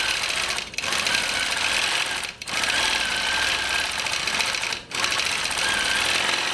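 A longarm quilting machine stitches steadily through a quilt, a loud continuous mechanical whir with fast repeating needle pulses, broken by two or three brief pauses as it is moved to a new spot.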